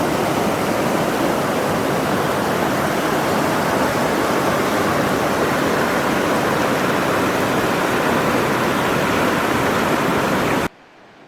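Gurara Falls waterfall in Niger State roaring as a dense, steady broadband rush of falling water, loud and close, continuing unbroken before cutting off abruptly near the end.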